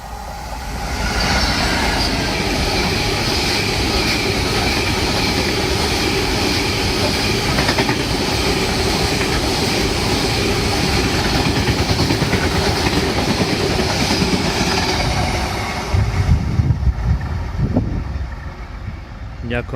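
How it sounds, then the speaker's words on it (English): A freight train rolls steadily through Chester-le-Street station, a loud continuous rumble of wheels and wagons with rail clatter that holds for about fifteen seconds before easing, while people talk quietly in the background. "Here comes another train."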